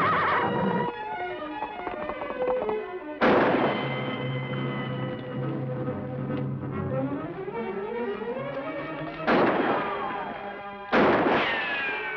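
Gunfire rings out in a western TV episode: a few sharp reports with long ringing echoes, spaced seconds apart over a sustained tonal score-like background, no talking.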